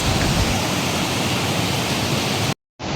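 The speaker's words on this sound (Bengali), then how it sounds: "জলের আওয়াজটা শুনতে পাচ্ছেন? জলের আওয়াজটা কিন্তু বেশ তীব্র।" Rhine Falls, Europe's largest waterfall, roars as a dense, steady wash of water noise mixed with falling rain, close and loud, before cutting out briefly near the end.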